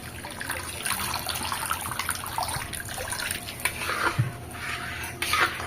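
Water is poured into a cooking mixture for a coconut puri recipe, a steady soft splashing trickle heard close up for several seconds with no talk over it.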